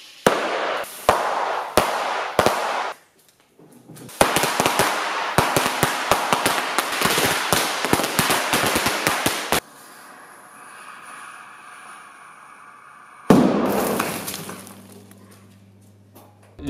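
Rapid strings of sharp firecracker pops, set off as fake bullet impacts on a film set, come in bursts, loud and close, with a brief gap, a quieter stretch, then one more crackling blast.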